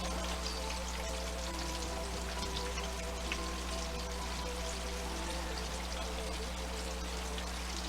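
Pieces of breaded fish, flounder and cod, frying in hot oil, giving a steady, dense crackling sizzle with a constant low hum beneath it, close and even throughout.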